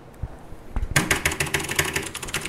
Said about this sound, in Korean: 도대체 무슨 키보드를 쓰시는데 이런 찰진 소리가 들리냐?